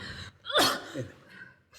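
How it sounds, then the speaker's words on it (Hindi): A single sharp sneeze from a woman with a heavy cold, a quick intake of breath bursting into a loud, close sneeze, followed by a brief softer exhale and quiet room tone. "सवेरे से छींके चली जा रही हो"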